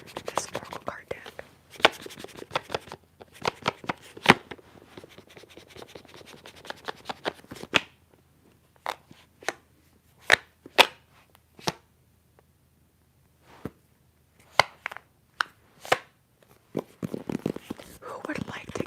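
An oracle card deck being shuffled up close, with soft rapid riffling and scratchy card rubs in bursts, then sparse isolated taps and flicks, with quiet whispered talk early on.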